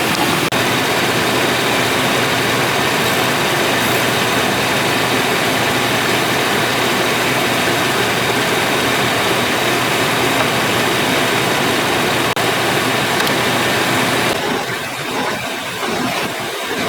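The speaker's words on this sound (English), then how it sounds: "by hand twist the throttle body over there to get it to the right RPM and check it" A rebuilt 5.7 Vortec V8 runs steadily at a held speed as its throttle body is turned by hand to set the RPM, a loud, constant engine drone with no talk, dropping off near the end.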